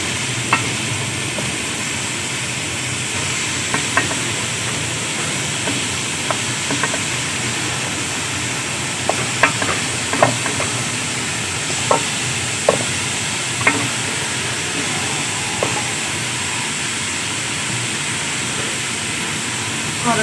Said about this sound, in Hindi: ऑयल अच्छे से गर्म हो चुका है। अब हम इसमें डालेंगे लौकी।